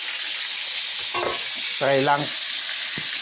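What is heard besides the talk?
food frying in a pan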